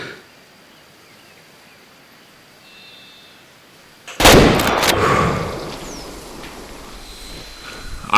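A 30-30 lever-action rifle fired at a deer in the hunting game Way of the Hunter: quiet outdoor ambience, then one sharp, loud shot followed by a lingering rolling echo and faint birdsong.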